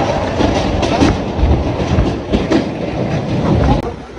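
A train rolls through a station at Akola, its wheels clacking over rail joints in a loud, steady rumble with repeated rhythmic thumps, close by and continuous throughout.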